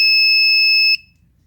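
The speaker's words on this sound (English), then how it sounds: "Once the beeping stops, it's off." Electronic beeping from an alarm keypad indicator as it powers off: two steady high tones sound continuously for about a second, then cut off abruptly into near silence.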